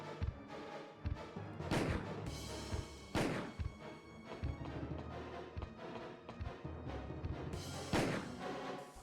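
Gunshots ring out in the 1996 video game Resident Evil 1, with several loud, spaced blasts, each followed by a short decaying tail over a steady bed of game music.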